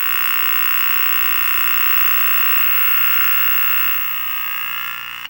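A probed signal from the emitter output of an old CRT television's AV input board comes through as a loud continuous buzzing tone with harsh layered overtones, steady throughout and fading slightly near the end.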